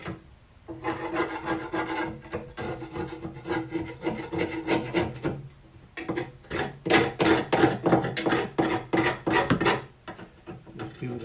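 A scraper worked over the underside of a mowing deck during cleaning gives rough, rasping strokes close by, steady at first and then quick repeated back-and-forth scrapes.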